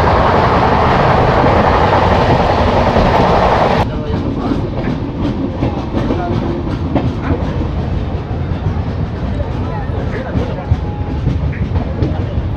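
Tirupati Humsafar Express passing near Balasore, a loud roaring rush that cuts off abruptly after a few seconds, leaving a lower, steadier rolling train rumble close by.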